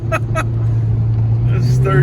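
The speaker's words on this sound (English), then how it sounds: "Third gear sliding here." A 2011 Hyundai Genesis Coupe 2.0T slides sideways on a snowy highway in third gear, its engine giving a loud, steady droning hum close by, with brief bursts of voices over it.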